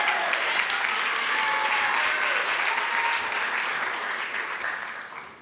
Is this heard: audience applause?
yes